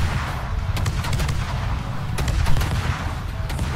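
Naval gun shells fired at the Japanese cruiser Izumo in a warship battle game, a burst of several sharp booming shots and impacts, loud and close over a constant rumbling battle din, no talk.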